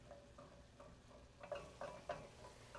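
Onions frying in a pan for picadillo, a quiet sizzle with a few stirring scrapes and light clicks, no talk.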